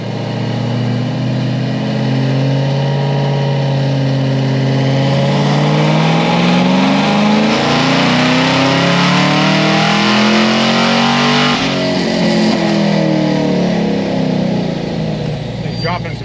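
A turbocharged car engine on 93 octane revs hard on a dyno, a loud, close roar climbing steadily in pitch for about eleven seconds before backing off and settling.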